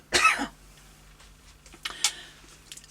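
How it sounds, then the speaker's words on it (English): A single harsh cough bursts out close up at the start, followed by a few softer throat sounds and faint clicks in an otherwise quiet indoor room. "Sorry, I'm going to cough."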